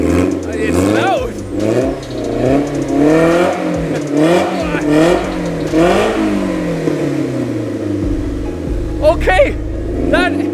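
A McLaren F1 recreation's engine is revved repeatedly in a workshop, with loud rising and falling blips in close succession and a final sharp rev, while people talk over it.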